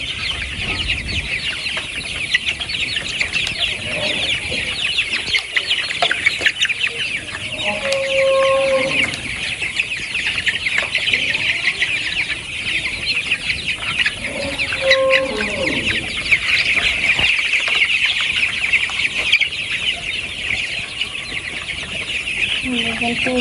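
Many farm chickens crowded around water pots cluck and squawk together in a dense, continuous flock chorus, with occasional louder calls standing out against steady background noise.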